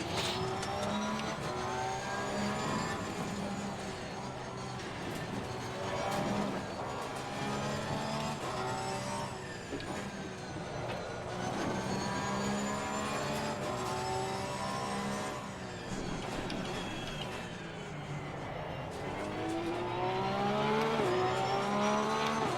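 A Porsche GT3 race car engine roars continuously in GT3 Simulator, revving up and down through gear changes with a loud, harmonic-rich howl that surges near the end.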